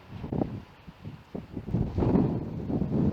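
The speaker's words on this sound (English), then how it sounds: "The wind is getting up" Wind gusts across the exposed coastal headland at Baggy Point, rumbling and buffeting close against the microphone in uneven, swelling bursts.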